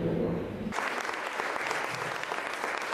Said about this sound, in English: Winthrop's first received a standing ovation